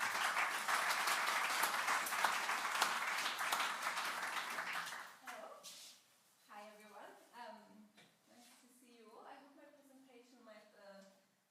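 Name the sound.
applause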